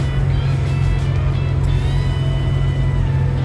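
An old RV cruising at 60 mph on cruise control produces a steady, loud engine drone and road rumble with constant low hum, close and unbroken, with no talking.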